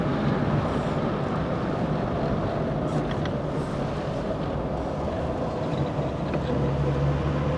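Inside a 1994 Skoda Favorit on the move, a steady broadband engine and road rumble fills the cabin with wind noise, droning continuously without pause.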